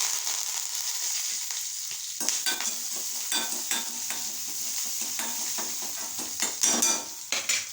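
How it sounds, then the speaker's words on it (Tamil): Steady crackling sizzle of mustard seeds popping in hot oil for rasam, with scattered sharp pops and occasional stirring scrapes throughout, close and continuous. "எண்ணெய் காஞ்சிட்டு ரசத்துக்கு கடுகு போட்டாச்சு"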